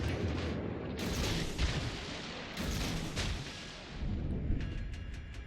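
Cruiser guns fire in World of Warships Legends: repeated heavy booming salvos roll in over a constant loud battle rumble, with bursts near 1, 2.6, 3 and 4.5 seconds.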